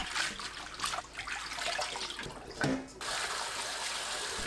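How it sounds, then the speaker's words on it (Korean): Tap water runs steadily into a kitchen sink while soaked water parsley (minari) is rinsed in clean water, a constant close splashing hiss with a brief dip near the end. "10분 후 깨끗한 물로 헹굽니다."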